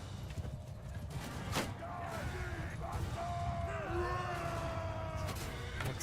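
Horses in a Mount & Blade II: Bannerlord battle, steady clip-clop of hooves and occasional whinnies over a dense, continuous battlefield din, with some talk mixed in.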